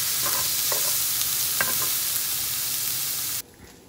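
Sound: stirring frying onions, squash and garlic in a pan

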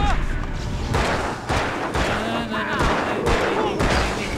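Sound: gunshots in Alan Wake video game

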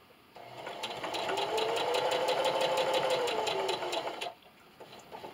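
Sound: sewing machine stitching fabric

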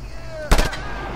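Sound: gunfire shooting at barrels in video game Just Cause 2

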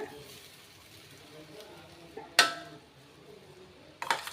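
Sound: stirring fried paneer into rice in a pan

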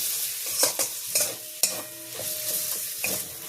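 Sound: stirring garam masala into potato stuffing in pan

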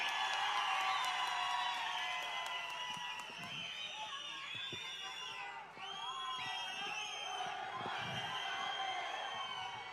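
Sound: crowd applause and cheering

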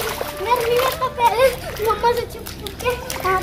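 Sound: child splashing and playing in water

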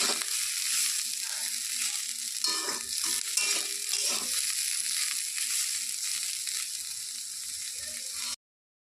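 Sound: stirring frying bitter gourd in a pan

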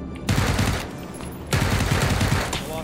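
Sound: suppressive gunfire in PUBG video game

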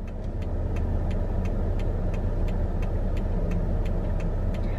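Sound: road traffic at a Starbucks drive-thru

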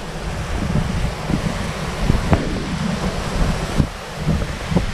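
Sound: strong wind

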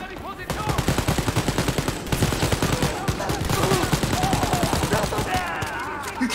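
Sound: gunfire in the video game Wolfenstein: Youngblood

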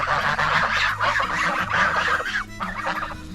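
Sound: geese honking

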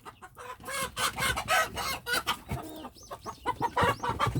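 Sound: chickens clucking around a rabbit hutch

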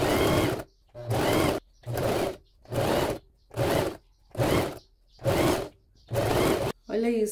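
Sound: sewing machine stitching frilly lace trim

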